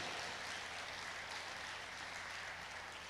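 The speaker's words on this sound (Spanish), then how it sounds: "Dale fuerte ese aplauso" A church congregation applauds during a sermon, making a continuous, even roar of clapping that carries on for about three seconds. It sounds soft and somewhat distant, with no voices over it.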